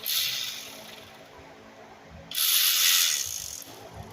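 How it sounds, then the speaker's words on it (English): Ratchet tightening the two oil filter housing bolts on a 2008 Nissan Sentra 2.0L, two bursts of fast close clicking separated by a short quiet pause. "tighten these two bolts that the oil filter go into right here"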